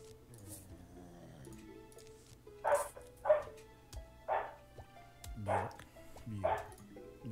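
A dog yips and barks in a few short, separated bursts, fairly close, with a whimpering tone, over a quiet low background hum while people talk nearby.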